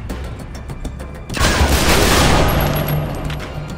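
Gunfire in Splinter Cell: Conviction bursts in suddenly after quieter ambience and keeps up as a loud, dense, continuous volley through the rest of the moment.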